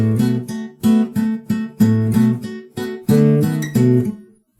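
A low guitar bass line with plucked notes and quick hammered-on follow-up notes in a loose rhythm, close and clear, ending on a ringing note.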